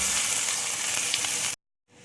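Chopped onion sizzles steadily in hot oil with ginger garlic paste for prawn pulao, a loud continuous hiss that cuts off abruptly and then resumes faintly.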